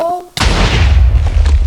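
A cannon is destroyed in Minecraft: a sudden, loud booming explosion with a long rumbling tail. A faint tone and voice come just before it.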